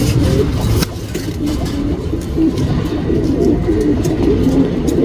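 Tournament racing pigeons coo in a loft, soft throaty rolling calls repeating over a dense, continuous bed of bird chatter and low background rumble, close and fairly loud.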